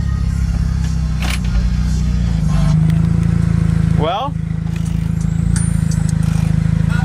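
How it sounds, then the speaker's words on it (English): A demolition derby car's engine runs steadily with a loud low rumble throughout, while someone speaks briefly and some clatter and rattling sound over it. "This is me taking my derby car for a test drive."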